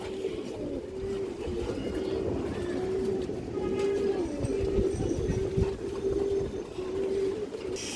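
Big-sized black pigeons in a loft coo steadily in repeated low rolling phrases, a dense flock murmur close by with no talk.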